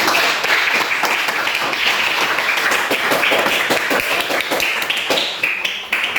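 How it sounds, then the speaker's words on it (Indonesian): Students in a classroom clap together after a group discussion, a dense, steady patter of many hands that goes on for about six seconds and thins slightly near the end, with no voices. "Sekali lagi itu Anda semua memberikan aplaus untuk Anda semua."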